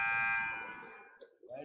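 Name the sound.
basketball game buzzer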